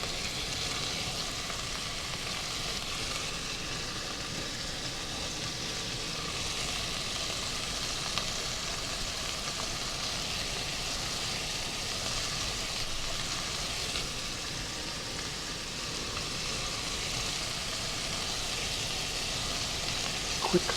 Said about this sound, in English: Just going to get a little bit of a brown on it.